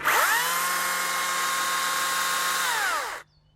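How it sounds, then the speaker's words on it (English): A cordless Makita chainsaw motor whirs up to speed, runs at a steady high-pitched whine for about three seconds, then winds down and stops. "So to turn the chainsaw on, you press the power button."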